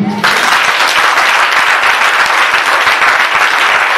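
A church congregation breaks into loud, steady applause in praise of Jesus, dense rapid clapping that starts abruptly and carries on without a pause.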